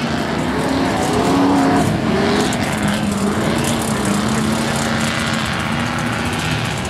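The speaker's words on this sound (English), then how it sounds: "When Twitty starts his engine" A small engine runs steadily at an off-road riding spot with a ramp, a loud droning motor with a wavering pitch that holds close and continuous for the whole stretch, with no talking.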